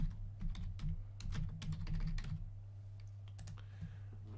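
Typing a folder name on a computer keyboard: a quick run of light key clicks for about two and a half seconds, then a few scattered taps, close and faint, with a steady low hum underneath.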